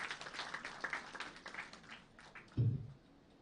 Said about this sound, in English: huge round of cheers and applause for yourself for making this happen